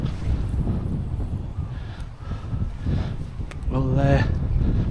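Steady low rumble of strong wind buffeting the microphone at a lake, with a boat engine drone rising near the end.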